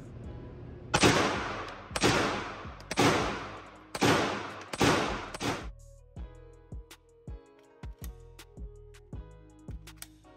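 Pistol shots from a CZ P10C fitted with a red dot at an outdoor range, five loud sharp reports at roughly one-second intervals, followed by softer distant clicks and pops.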